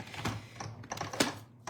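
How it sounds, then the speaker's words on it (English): A paper card base runs through a Stampin' Cut and Emboss machine, giving a short series of crisp clicks and rolling crunches at close range, with no talking. "we'll just run it through the Stampin' Cut and Emboss machine"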